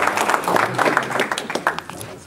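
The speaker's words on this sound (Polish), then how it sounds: "Szanowni Państwo, poproszę o brawa dla pana Romana Rudnika." Applause breaks out at a kayak club season-summary gala in Olsztyn, a dense, steady patter of many hands clapping in a hall, fairly loud and continuous throughout.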